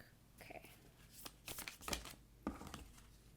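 A deck of tarot cards being shuffled up close, with quick riffling bursts, soft slaps and papery rustles in irregular spurts, fairly quiet and with no talking.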